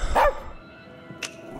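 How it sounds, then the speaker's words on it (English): A nervous dog barks in the video game As Dusk Falls: one loud, close bark at the start, then a brief sharp yip near the end, with quiet in between. "You're upsetting the dog."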